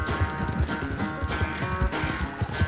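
Quick, rhythmic horse hoofbeats in Red Dead Redemption 2 clip-clop at a steady gallop pace, loud and close, with a faint musical tone underneath.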